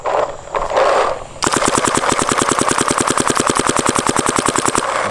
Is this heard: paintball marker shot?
yes